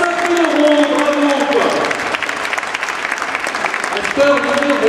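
Applause from an auction-room audience at a UNICEF charity sale, as a final lot is knocked down for 5000 euros: steady, dense clapping fills the whole stretch, with a voice heard briefly over it.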